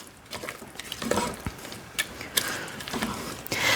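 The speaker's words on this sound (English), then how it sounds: "And now I'm gonna get a spoon to stir that all up." A spatula works through mashed potatoes with butter and milk, giving soft, sticky squelches and scattered light scraping clicks against the pot, close and fairly quiet.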